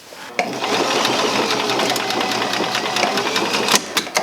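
A sewing machine stitching over thick clothing fabric, running in one loud, steady mechanical whir close by, with a few clunks near the end as it slows.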